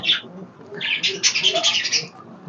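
Pet fancy pigeons kept with their eggs coo and murmur close by in soft, throaty bursts, with a brief higher chirpy rustle layered over the low, continuous cooing.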